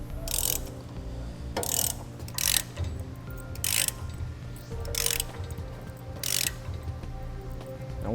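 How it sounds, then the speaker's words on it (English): A ratchet wrench with a 15/16-inch socket tightening a bolt on a weight distribution hitch, a steady run of quick ratcheting clicks broken by several louder bursts of rapid clicking, close and clear with no talking. "we're going to grab a 15/16" inch socket, and we're going to tighten it up until it makes contact with the shank"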